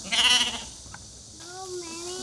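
A sheep lets out one loud, wavering bleat near the start, followed by quieter ambience and a voice speaking softly.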